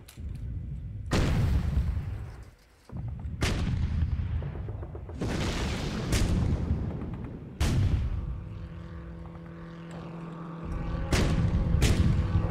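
Heavy guns fire in a Sudden Strike 3 battle as a series of deep booming reports, each followed by a long rumbling decay, arriving every couple of seconds over constant battlefield noise, loud and close.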